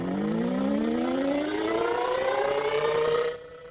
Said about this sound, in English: Tornado warning sirens can save lives, but they can also vary from county to county and city to city.